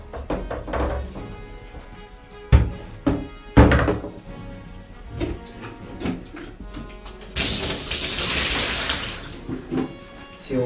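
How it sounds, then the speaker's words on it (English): A sanded 3D-printed sword part is rinsed in a bucket of water, with sharp thunks and knocks against the bucket and sloshing water, then a louder rush of pouring water near the end. "Then I'm going to change the water and do another rinse."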